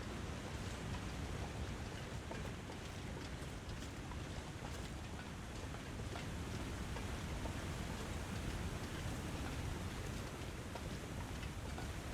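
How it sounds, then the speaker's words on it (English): A loud waterfall roars in a steady, dense rush of water that fills the whole clip without pause, close and continuous, with no voices over it. "One loud waterfall."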